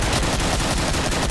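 Rapid, dense automatic gunfire from a weapon in the video game Killing Floor rattles loudly and continuously, an unbroken burst of shots close up.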